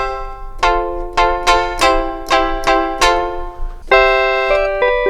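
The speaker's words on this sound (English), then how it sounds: "if I'm looking for a DX7 sound" A DX7-style electric piano preset in the Arturia Play software sounds a run of bright, bell-like plucked notes in a steady rhythm, then sustained chords near the end, clean and close with no voices.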